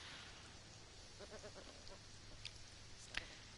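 A goat bleating in the farm-life game Baker's Life: a short, faint, wavering bleat followed by a couple of brief sharp calls against a quiet background.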